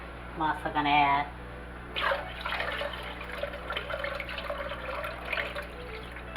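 A brief voice, then water splashes and pours steadily into a pot for cooking chicken with rice, trickling on until the end.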